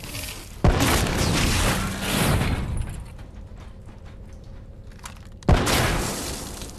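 Heavy gunfire and booming explosions from a Call of Duty Black Ops 3 mission, with two sharp loud blasts a few seconds apart over a dense, continuous rumble of battle noise and crackling shots.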